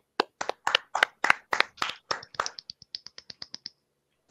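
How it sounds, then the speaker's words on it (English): A round of applause made of sharp, close hand claps, about sixteen in a quick steady rhythm that slows and thins out toward the end, with no talking. "It was a round of applause."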